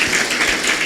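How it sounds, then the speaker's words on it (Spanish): A congregation in a church claps after a sermon reading, producing a brief, steady wash of applause with no talk over it. "Un fuerte aplauso a la palabra del Señor."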